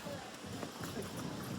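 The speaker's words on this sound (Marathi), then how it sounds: "दोन आले ते घोडे चांगले बघ" Horses on an Alibag beach, soft hoof clip-clops coming through a busy outdoor background with voices chatting nearby, fairly quiet and partly masked.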